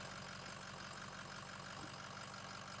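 A Ford Powerstroke diesel engine idles steadily after restarting, a constant low rumble running throughout with no voices.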